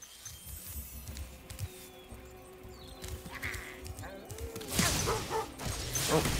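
Dogs barking as enemies in the Spyro the Dragon video game, short yelps and barks scattered amid game sound effects, music and clattering impacts, busiest toward the end.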